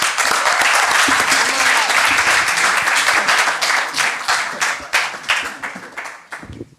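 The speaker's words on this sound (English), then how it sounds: "Let's give him a round of applause." A crowd at a speaker series event applauds loudly and steadily, the clapping thinning out and fading toward the end.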